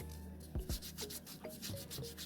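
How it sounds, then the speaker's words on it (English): A sponge scrubs a dirty yam in quiet, rhythmic rubbing strokes, soft and close, with a couple of louder scraping passes early on and no voices. "I use sponge to scrub the"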